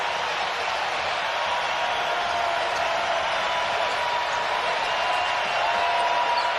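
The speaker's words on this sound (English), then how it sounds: "And this crowd's getting into it." Home crowd at Viejas Arena roaring and cheering through a San Diego State versus Wyoming college basketball game, a steady dense wash of noise with fans on their feet and no break.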